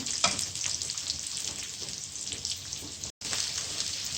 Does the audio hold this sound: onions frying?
yes